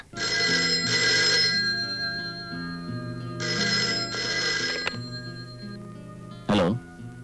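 An electronic telephone ringtone trills loudly in two long bursts separated by a pause, followed by a brief cough or throat-clear near the end.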